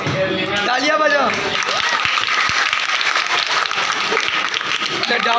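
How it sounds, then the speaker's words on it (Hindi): A group of people clap at a celebration with cake, a steady patter of hand claps mixed with crowd noise, while voices talk and call out over the top. "तालियां बजाओ।"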